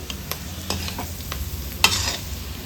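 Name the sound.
stirring chilli pork sizzling in a pan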